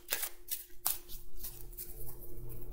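A deck of cards is cut and handled on a table, giving a few brisk papery riffles and slaps close by, with a steady low hum running underneath.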